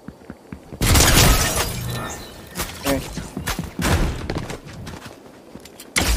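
Gunfire aimed at the player in Fortnite, a loud crashing burst followed by scattered cracks and thuds over the next few seconds, close and punchy with shattering impacts mixed in.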